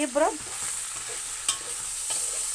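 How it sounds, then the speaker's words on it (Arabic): Lentils sautéing in a pan for a smoky, charcoal-flavoured dish give a steady close hiss of frying, with a few sharp stirring clicks and a brief tonal chirp at the very start. "بصوا طبعا التشويح العدس زي ما انتم شايفين اهو"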